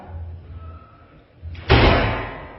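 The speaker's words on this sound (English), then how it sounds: "an open cabinet door suddenly slams shut on its own" An open cabinet door slams shut with a sudden loud bang that rings out and decays, following a quiet stretch of low room hum and faint murmuring.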